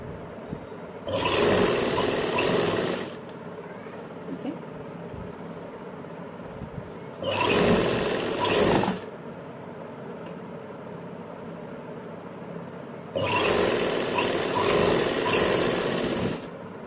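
Domestic sewing machine stitching the hem fold of a salwar, three separate bursts of steady motor whir and needle chatter about two seconds each, close and loud, with quiet pauses between.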